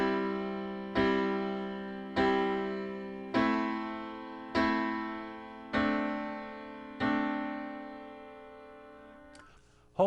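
A piano plays seven right-hand chords in a steady quarter-note pulse, each struck clearly and left to ring and decay before the next, close and moderately soft, with no voice over them.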